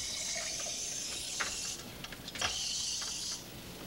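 Water streams steadily from a tap, with a hiss that stops, resumes after a pause of a few light knocks, then stops again, quiet and close.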